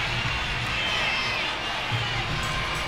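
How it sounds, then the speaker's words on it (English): Arena crowd at a college gymnastics meet, Arkansas at LSU, roars steadily for a senior after her routine, a dense, continuous wash of cheering with a few shouts rising out of it. "The crowd's on their feet. They want to see a 10."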